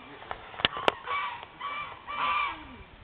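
Geese honk in a few short, close calls, a couple of sharp clicks among them, followed by longer nasal honks near the end.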